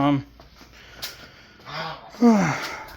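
A few goose honks sound nearby, short nasal calls spaced apart, with a breathy gasp-like noise between them.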